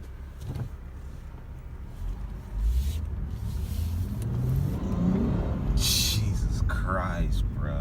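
A 2015 Lexus RC 350 F Sport drives off, its engine swelling and revving steadily from inside the cabin, with passengers talking excitedly over the rising drone.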